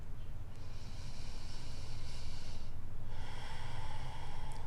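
Deep yoga breaths during a restorative stretch, long audible breathy airflow close to the mic, one slow exhale followed by another inhale, no talking.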